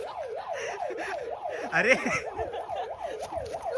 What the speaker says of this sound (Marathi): हॉर्न नाही, सायरन वाजवला.